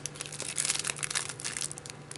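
A thin plastic packet holding taco shells crinkles and rustles in continuous, uneven bursts close to the microphone, with no talking.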